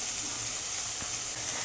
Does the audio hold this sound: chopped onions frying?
yes